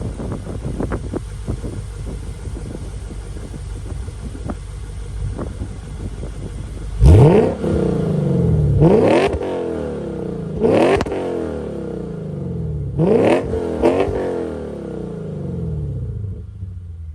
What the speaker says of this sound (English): listen to this exhaust as I rev it up real quick